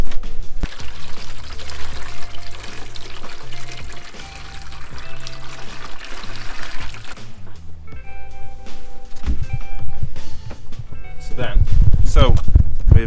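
Water poured into a foot-powered off-grid washing machine aboard a liveaboard narrowboat: a continuous pouring and splashing stream, close and fairly loud, with people talking over it throughout.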